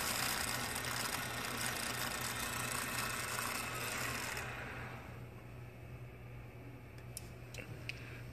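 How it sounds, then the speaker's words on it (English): A faulty drive motor on a Crown WP 3045-45 pallet truck runs with a steady mechanical whir and low hum, fairly loud at first, then dropping to a quieter, thinner drone with a few faint ticks near the end. "This is the sounds of the bad motor."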